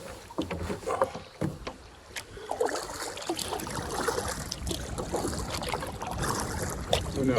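Wind blows across a canoe drifting on the French River, a gusty, rushing noise that buffets the microphone, mixed with occasional knocks and soft water sounds near the boat.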